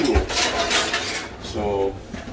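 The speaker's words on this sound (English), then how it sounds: "let's grab a spoon here and stir up this egg noodle" A spoon stirring egg noodles in a pot of boiling water, producing a few close metallic clinks and scrapes against the pot, loud and irregular, with brief bubbling between them.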